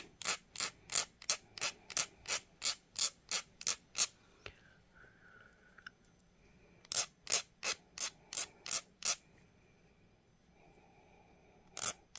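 A file rasps steadily across large pieces of a hair comb in quick, even back-and-forth strokes, close and crisp, pausing for a few seconds before a second run of strokes.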